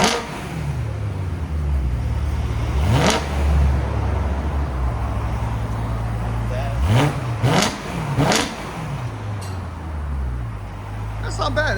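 A 2011 BMW M3 with a 4.0L V8 and resonator delete idles with a low rumble, then rises in several sharp revs. The blips come in quick bursts of two or three, with people talking faintly alongside.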